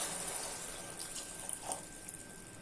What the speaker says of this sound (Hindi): अभी इसमें 1 गिलास जितना पानी ऐड कर देते हैं